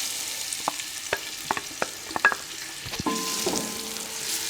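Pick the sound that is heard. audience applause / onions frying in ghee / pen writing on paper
onions frying in ghee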